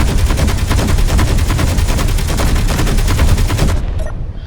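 Rapid automatic turret gunfire in the video game Space Engineers, a loud continuous stream of evenly spaced shots for nearly four seconds before cutting off abruptly.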